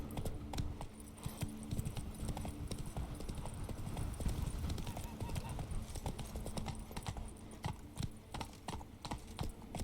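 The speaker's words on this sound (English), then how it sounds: "Run, Roach." Hooves of the horse Roach from The Witcher 3 clatter in a fast, steady galloping rhythm, with someone talking over the hoofbeats.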